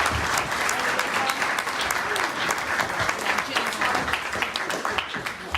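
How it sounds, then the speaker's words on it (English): Sustained, dense applause from the audience at a book launch, filling the whole stretch at an even, fairly loud level. "Give her another round of applause"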